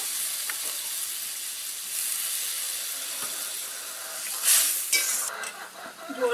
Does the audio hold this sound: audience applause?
no